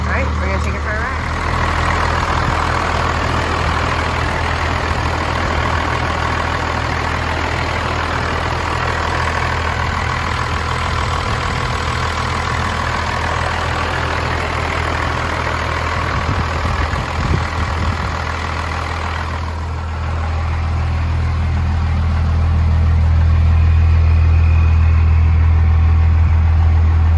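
A 1990 Dodge Ram 2500 regular cab turbo diesel pickup idles after a cold start, a steady loud low rumble with a constant clatter that runs unbroken throughout, swelling slightly toward the end.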